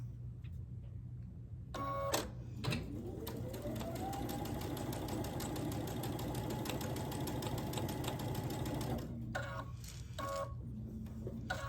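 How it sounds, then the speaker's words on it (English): Sewing machine stitching down an appliqué dress on a Sunbonnet Sue quilt block: a few short bursts, then a long steady whirring run of rapid needle strokes, then more brief bursts near the end. "I'll stitch her dress down."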